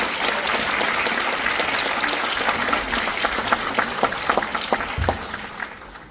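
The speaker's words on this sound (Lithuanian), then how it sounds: "Dabar plojimai Gražinai" An audience applauds at an 80th anniversary event of the Šilutė culture centre and chamber drama theatre, giving dense, sustained clapping that thins into scattered claps before fading out.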